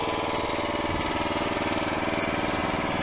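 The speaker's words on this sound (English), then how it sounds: "Little petrol engine." Small petrol engine of a towable backhoe micro mini digger running at a steady idle, a constant close buzzing drone with a slight vibration and no talk over it.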